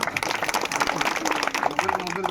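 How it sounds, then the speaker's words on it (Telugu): A crowd at a police welfare gathering for tribal families breaks into steady applause, dense overlapping clapping with voices speaking over it. "చప్పట్లు కొట్టండి"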